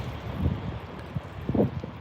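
Wind buffets a microphone on a train platform in Japan, a steady rough rush with gusty swells and no clear voices.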